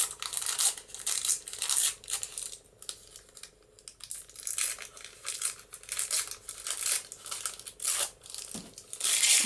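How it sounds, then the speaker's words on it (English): Coffee-dyed tracing paper being torn by hand in a series of crisp, close ripping and crinkling bursts separated by short pauses. "got some tracing paper that I've coffee dyed, so I'm going to tear some of that off."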